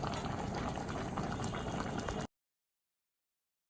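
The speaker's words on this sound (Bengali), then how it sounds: "পানি এখন আছে তো সিদ্ধ হচ্ছে" Tomatoes boiling in a pot of water make a dense, steady bubbling rumble close by for about two seconds before the sound cuts to silence.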